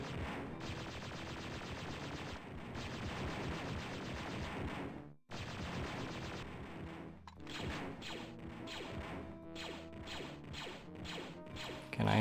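Blaster gunfire in the Star Wars shooter Dark Forces, level 4 research facility: a dense, loud stretch of game sound with repeated sharp bursts and crashes, a brief drop out midway, then choppier hits toward the end.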